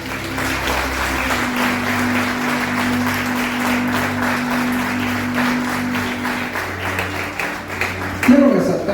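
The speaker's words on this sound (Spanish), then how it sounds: "Aplauda a Dios" Church congregation clapping steadily together in praise, a dense sustained applause with a rhythmic beat, a voice speaking over it, then a brief clatter near the end.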